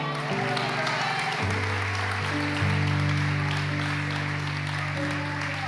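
Congregation applauding at a church service, a dense steady wash of clapping running throughout with sustained organ or keyboard tones underneath.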